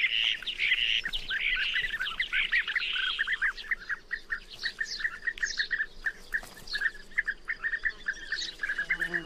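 Bee-eaters calling at a nesting colony in Serbia: dense, overlapping liquid trilling chirps from many birds nearby, rapid and continuous, with a few harsher squawks.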